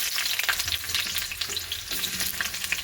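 Onion frying in hot oil with mustard seeds in a kadai, a steady dense sizzle with scattered crackles and spits, close and loud throughout, with no talking.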